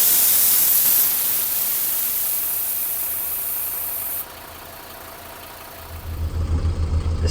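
Air brake compressor running on a Mercedes Vario truck with a brake fault gives a loud, steady hissing hum that drops in level midway. A low, rhythmic engine throb rises near the end.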